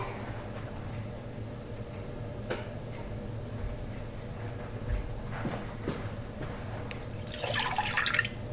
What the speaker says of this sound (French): on verse le lait et le miel